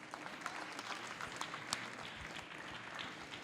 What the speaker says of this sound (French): Bravo, on peut les applaudir bien fort.